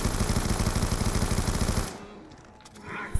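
Light machine gun firing in a video game, a rapid sustained burst of loud, evenly spaced shots lasting nearly two seconds, then cutting off to quieter background noise.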